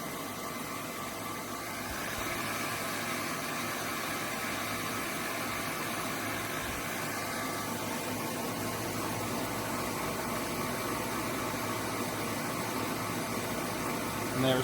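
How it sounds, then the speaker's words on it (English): A Balzer HLT 160 leak detector's vacuum pump working steadily as it pumps down the test port, a continuous mechanical hum and hiss that holds level throughout. "And there's pumping on the chamber, or I mean on the test port."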